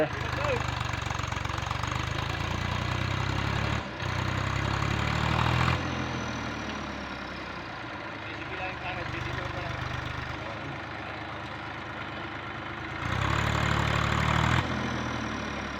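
A tractor engine chugs steadily nearby during paddy planting, its low rumble rising and falling, with people talking over it at times.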